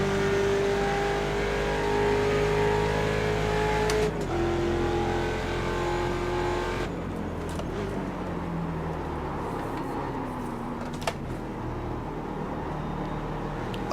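Ford Mustang race cars in iRacing at Sebring: a near engine drones and revs at a steady pitch, shifting down around four and seven seconds, with a brief thump later and no talk.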